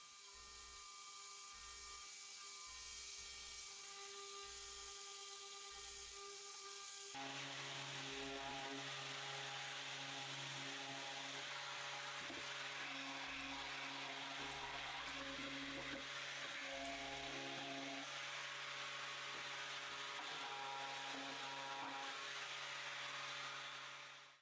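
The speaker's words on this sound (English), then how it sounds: "When it's really stuck on, best to sand it off" A power sander works stuck-on material off a wooden surface, a steady, loud, close whirring hiss that starts a few seconds in and runs without pause to the end, with a quieter hum before it.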